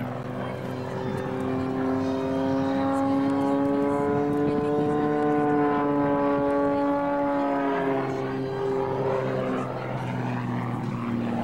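A Canadian Forces Snowbirds jet performs at the 2003 Kern County Airshow, its loud sustained engine roar rising and falling in pitch as it passes, with a commentator talking over it.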